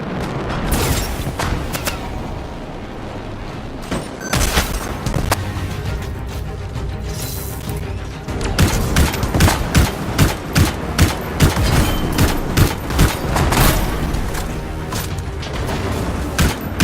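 Turret gunfire in the video game Anthem: steady crackling volleys running the whole way, with a denser burst of rapid, evenly spaced shots in the second half, loud and close, with no talk.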